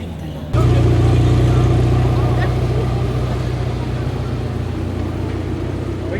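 An old vehicle engine that has been restored with a new battery and a cleaned carburetor starts and then idles steadily. The running sound is loud, close, and constant.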